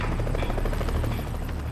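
A helicopter hovers close to a mountain face, buffeted by strong updrafts. Its rotor thumps loudly and steadily throughout.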